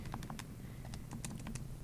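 Numbers tapped out quickly on a computer keyboard, a close string of light plastic key clicks at an uneven rhythm over a steady low background hum, with no talking.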